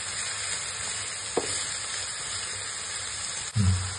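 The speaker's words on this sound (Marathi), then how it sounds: "आता त्याच्यात कोबी टाकूया, हिरवी चिरलेली, ती पण परतून घेऊया." Chopped green cabbage stir-fries in a hot pan for fried rice, giving a steady close sizzle with a soft scrape of stirring partway through and a louder clatter of the pan near the end.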